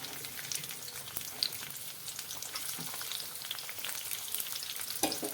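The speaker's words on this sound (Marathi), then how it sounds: "त्याच कढईमध्ये मी या ठिकाणी तेल घालून घेणार आहे काही आणि त्यामध्ये बारीक चिरून घेतलेला कांदा मी घालून घेणार आहे" Finely chopped onion frying in oil in a kadai makes a dense, continuous sizzle with fine crackling throughout, close and steady, with a single knock near the end.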